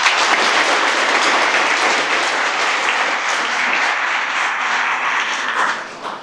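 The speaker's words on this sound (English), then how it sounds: "So can we give her a round of applause?" Audience applause at a chamber of commerce banquet in Muleshoe, a dense, steady wash of many hands clapping that fills the room for about six seconds before tapering slightly at the end, with no talking over it.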